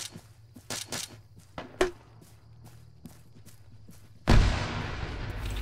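Gunfire in the Arma 3 military game during a night operation, several scattered sharp shots and thumps at varying distance, then a heavy loud blast with a rumbling tail.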